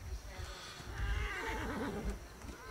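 A horse whinnies in the Atlas video game, a drawn-out neigh near the microphone with hoof clip-clops under it and a voice talking over part of it.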